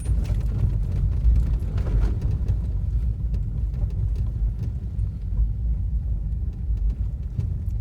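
A motorcycle ridden slowly along a slippery concrete village road after rain, a steady close engine rumble with wind buffeting throughout.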